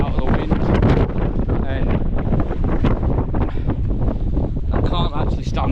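Storm Agnes sends strong gusts across Scales Tarn in the Lake District, buffeting the microphone with a loud, roaring rumble that never lets up. A voice speaks briefly under the wind.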